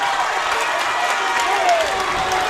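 Crowd at a high school boys basketball game roars and applauds in a loud sustained wash of cheering, with faint sneaker squeaks on the court and a commentator's voice over it.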